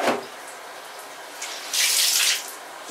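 Water from a basin used for washing cloth diapers is tipped out in a short gushing pour near the end, preceded by a brief splash and quieter background trickling.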